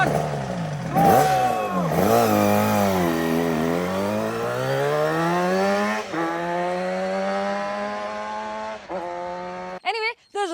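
A Yamaha RD350 two-stroke motorcycle, built for drag racing with a reversed engine, revs hard and accelerates through rising, falling gear pulls, loud and close, before cutting off at the end.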